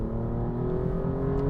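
Steady, close engine drone from an Alfa Romeo Giulia Quadrifoglio while driving, with a faint rise in pitch and no voices.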